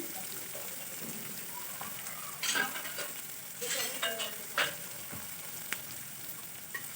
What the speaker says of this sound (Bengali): এরপর পেঁয়াজটা আমি খুব ভালোভাবে ভেজে নেব